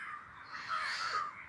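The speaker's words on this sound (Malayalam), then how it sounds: "ഫുള്ള് കാക്കകളാണല്ലോ." Crows cawing together, a faint, fairly continuous chorus of harsh calls swelling slightly midway, with no other sounds.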